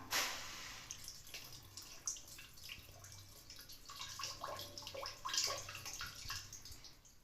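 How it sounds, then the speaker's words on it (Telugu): Water poured over goat intestines to rinse them during kitchen preparation gives a steady splashing trickle with scattered drips, close up and continuous. "మళ్ళీ ఈ చేత్తో ఇలా పట్టుకొని ఒకరు నీళ్ళు పోయాలి"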